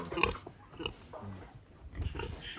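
A large pig on a small farm in Manchester, Jamaica grunts close by in a series of low, irregular snorts and oinks.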